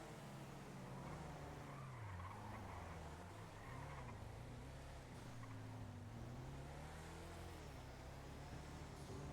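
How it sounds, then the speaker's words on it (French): Car in a video game skidding through a handbrake U-turn, a steady engine drone with a wavering pitch and a tire scrub running the whole time, loud and continuous with no break. "Demi-tour frein à main."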